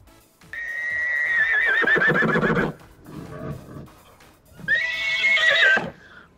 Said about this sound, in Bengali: ঘোড়াটি দেখো দৌড়ে বেড়ায়।